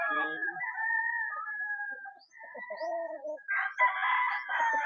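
Game-farm rooster crowing close by, with several drawn-out, strained crows in a row and some clucking, while someone talks over parts of it.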